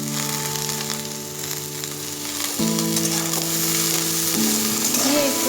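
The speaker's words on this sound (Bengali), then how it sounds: "আমি আরও কিছু টাইম নেড়ে চেড়ে নেব। সবজিগুলো প্রায় ভাজা হয়ে গেছে" Chopped vegetables with ghatkol stalks sizzle loudly in a pan while being stirred, a continuous close frying hiss with a steady tonal hum beneath and occasional scraping, with no one talking.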